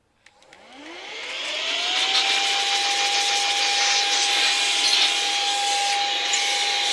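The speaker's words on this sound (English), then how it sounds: "And you just come back now with your air duster or your compressed air." Compressed air duster blasting dust out of a PS4 Pro console (model CUH-7215B) during cleaning: a steady, close hiss with a rising whistle that settles into a sustained tone.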